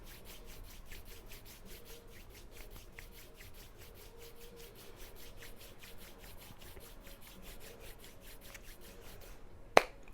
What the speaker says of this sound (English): Bring your hands together. Start to rub them gently